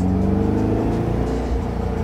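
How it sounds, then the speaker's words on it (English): A Porsche 356 Speedster engine with an upgraded A1 exhaust drones and revs steadily at close range, its deep exhaust note rumbling loud throughout with no talking. "an upgraded exhaust from Vintage Motor Cars called the A1 exhaust, so she sounds"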